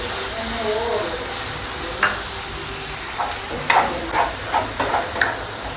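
Capsicum (shimla mirch) frying with onion in butter and oil, a close, steady sizzle punctuated by several sharp scraping stirs of a ladle against the pan in the second half.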